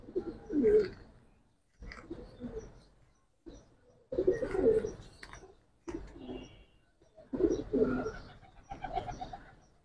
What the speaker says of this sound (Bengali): মাদিটা সাপ চোখের কবুতর